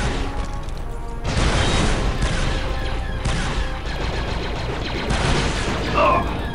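Rapid blaster-style gunfire crackles in bursts in Star Wars Republic Commando, dense repeated volleys with short gaps, loud and close, with some voices underneath.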